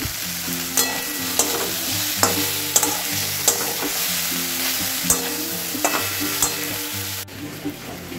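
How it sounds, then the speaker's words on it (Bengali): Winter vegetables and a whole medium brinjal fry together in a pan with oil, a steady close sizzle punctuated by sharp clinks of a spatula stirring, with no talk. "সবগুলো একবার একসাথে ভেজে নিচ্ছি"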